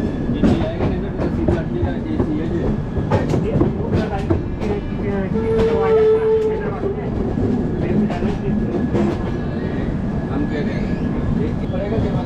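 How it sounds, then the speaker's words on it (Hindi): Train wheels clatter rhythmically over a diamond crossing at Nagpur in a series of sharp knocks, with a brief squeal and someone talking over the rolling noise. "ये आ गई दोस्तों अपनी डायमंड क्रॉसिंग।"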